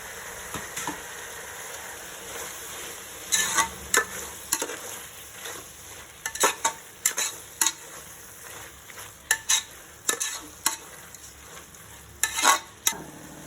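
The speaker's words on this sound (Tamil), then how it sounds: "இப்போ புதினா கொத்தமல்லி தலை கருவேப்பிலை எல்லாம் போட்டு வணக்கி விடுவோம்" Mint, coriander leaves and curry leaves sautéing in a pan for tomato rice, a low steady sizzle broken by clusters of sharp spatula scrapes and taps, close and alone.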